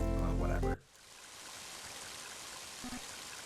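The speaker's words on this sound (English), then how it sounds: "Mighty heavy rain, isn't it?" Heavy rain in the video game Mother 3 hisses as a steady broadband wash after a loud musical passage cuts off abruptly, with a brief soft tone near the end.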